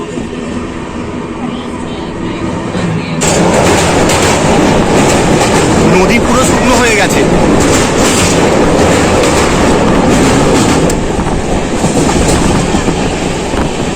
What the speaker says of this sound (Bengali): আমাদের ট্রেন হাওড়া থেকে 230 কিলোমিটার জার্নি করে এখন চলে এসেছে ওড়িশা রাজ্যের বালেশ্বর স্টেশনে।